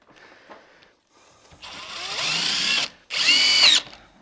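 A power drill driving a screw to set a 1/8 inch gap while installing a tile tub surround: two close whirring bursts of rising pitch separated by a brief pause, with no talk.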